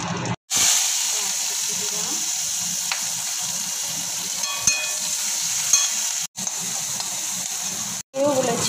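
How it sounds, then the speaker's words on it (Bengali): Panch phoron spices sizzle steadily in hot oil, a loud continuous frying hiss that runs throughout with a few brief breaks and faint stirring clinks. "একটু তেল দিলাম, পাঁচফোড়ন দিলাম"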